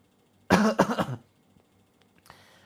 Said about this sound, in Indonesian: Tarik ke leher, kemudian batuk-batukan ya.